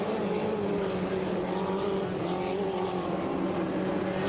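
An F2500 racing powerboat accelerates hard in a Valleyfield race, its engine a loud, steady, close drone with a rising harmonic tone and continuous water rush, no pauses throughout.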